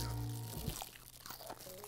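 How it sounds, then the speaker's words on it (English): Crispy fried chicken skin from Korean delivery food in Seoul crunches as it is bitten, a close crackling crunch followed by chewing noises over low background sound. "I don't know if you guys can hear the very subtle, yet very explosive crunch."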